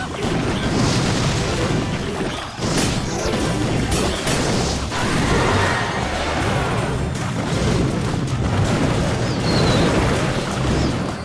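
Loud, dense crashes and booms of bombs going off in the mobile game Clash Royale, a continuous thick roar of game effects with heavy impacts throughout.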